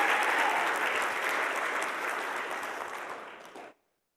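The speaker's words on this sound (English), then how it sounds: "Let's give her a round of applause." Conference audience at a computer science education event applauding a report author: full, sustained clapping that tapers slightly, then cuts off abruptly near the end, followed by silence.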